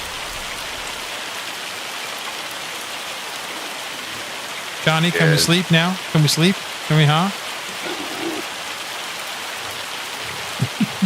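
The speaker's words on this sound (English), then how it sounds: "get rid of this bloody hail because it does my head in" Steady hail and rain in the Farming Simulator 25 video game, a dense constant patter of drops under voices talking midway through, close and continuous.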